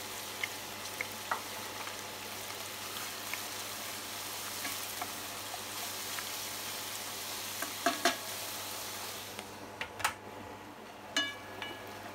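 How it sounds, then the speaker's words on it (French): Bacon lardons and mushrooms frying in a pan on a kamado grill at about 200 degrees, a steady close sizzle with occasional light scrapes and clicks as they are stirred. "Je vais faire revenir en premier mes lardons et mes champignons que je retirerai."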